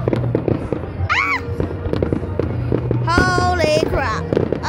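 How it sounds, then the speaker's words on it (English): Bonfire Night fireworks crackle and burst continuously, with whistling rockets rising and screeching between the bangs, loud and nearby, while a person exclaims over the display. "And here's the 10-minute mark of when the fireworks start."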